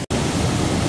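Waterfall in Yumyeong valley, Gapyeong, a loud close-up rush of falling water, steady and dense after a brief break at the start.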